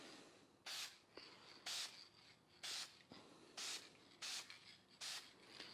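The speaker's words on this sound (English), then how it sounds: "now I'm going to hit it with some of this Duplicolor automotive adhesion promoter." A can of Duplicolor automotive adhesion promoter sprays onto a Toyota Supra MK2 car part in six short, evenly spaced hissing bursts, close to the microphone, with quiet pauses between and no talk.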